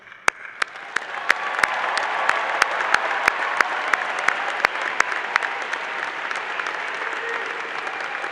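A large commencement audience applauds steadily for the full stretch, a dense wash of many hands with sharper individual claps standing out near the front, no voices over it.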